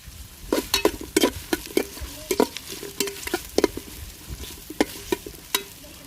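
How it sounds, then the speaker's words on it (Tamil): Chopped onions and three green chilies for beef biryani being stirred in hot oil, with repeated sharp scraping spoon strokes over a steady soft sizzle, close and moderately loud. "அடுத்தது நம்ம வெட்டி வச்ச வெங்காயத்தை சேர்த்துக்கிறோங்க"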